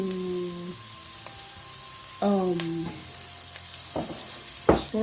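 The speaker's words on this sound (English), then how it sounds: "Just fry for 1 to 2 minutes, so we can start adding the rest of the ingredients." Fish roll filling frying in a pan, a steady soft sizzle that holds throughout at modest loudness, with a few brief clinks and tonal touches over it and no talking.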